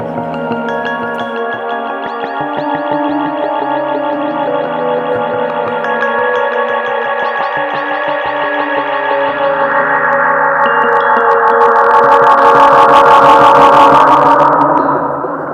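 A Strymon Volante magnetic echo pedal on its tape echo setting, repeats cranked and low cut raised, smears a dense sustained instrumental passage into layered trailing echoes that swell louder toward the end, with no talking.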